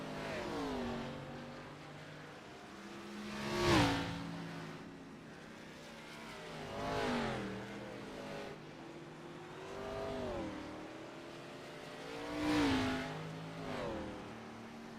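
ARCA race cars tear around the Bristol dirt track, their engines rising and falling in steady, revving passes about every four seconds, each swelling loud and then fading, heard from a distance without talk.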